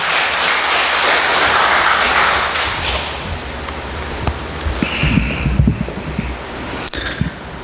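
A church congregation applauds to welcome a preacher to the front, a dense patter of clapping that swells and then thins into scattered individual claps.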